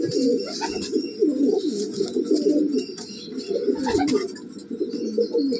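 Domestic pigeon cooing close by in soft repeated rolling bursts, steady and fairly loud, with no talking.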